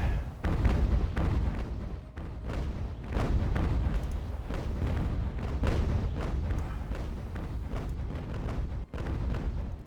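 Naval cannon fire between sailing warships in the Ultimate Admiral: Age of Sail game, Battle of Camperdown: a continuous run of deep, rumbling booms and thuds, rolling one after another at a fairly steady loudness with no pauses.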